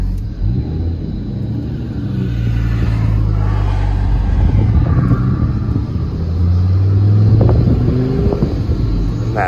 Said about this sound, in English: If you rev it though, it like jiggles the truck.